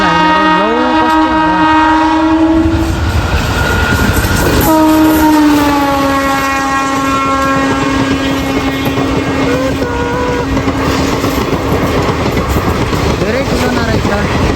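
A train passes close by near the India border, its loud horn blaring in long sustained blasts over the steady roar and rumble of the rail cars, with no pause in the din throughout.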